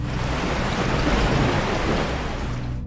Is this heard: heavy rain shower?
yes